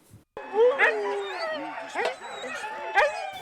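Huskies at a sled dog race bark, yip and whine in excited bursts, several dogs close by with high, wavering cries overlapping one another.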